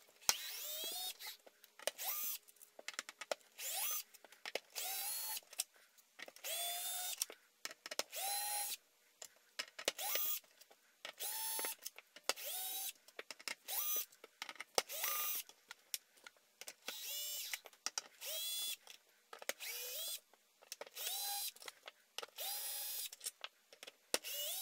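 A power driver with a Torx bit backs screws out of an Xbox console casing in many short, rising whirring bursts. The bursts come in quick succession, with brief gaps between them.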